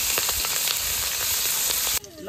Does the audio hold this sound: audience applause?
no